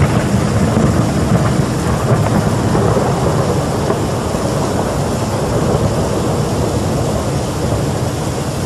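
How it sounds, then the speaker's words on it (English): Thunder from a lightning strike at the Christ the Redeemer statue above Rio, a loud sustained rumbling roar with rain-like hiss, continuous and dense throughout. "an extraordinary lightning strike at the Christ the Redeemer statue that towers over the city of Rio"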